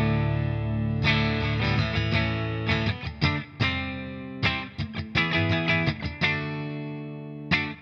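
An electric guitar through its humbucker pickup, played clean without an overdrive pedal, rings out in sustained chords and plucked notes with sharp attacks, brief gaps and decaying tails, loud and alone.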